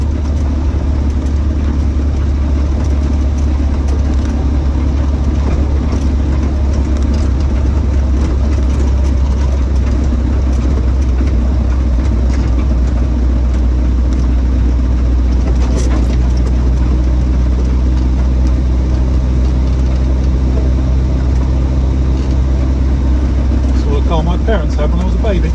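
A 1965 Triumph Herald 1200 convertible's engine idles in a steady, low, continuous rumble for the whole stretch, with someone talking over it.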